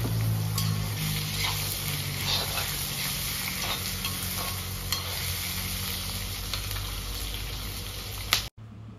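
Washed pork pieces hit a pan of onions fried golden brown, producing a constant close sizzle with occasional stirring scrapes, then a brief clunk near the end.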